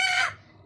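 A single short call from a chicken, a bright harmonic squawk lasting under half a second that fades quickly, close and fairly loud with no talk.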